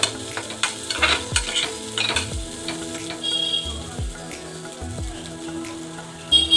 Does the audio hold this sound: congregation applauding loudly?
no